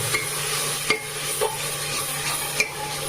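Tomatoes and chillies are stirred in a pan, a soft steady sizzle broken by several sharp spoon scrapes and clinks against the metal, close by, with no talk.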